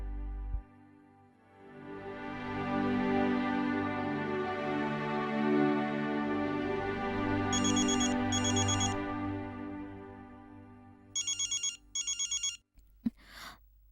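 A telephone rings with a sustained electronic ringtone for several seconds, loud and steady, followed by a few short repeated beeping bursts near the end; no one speaks.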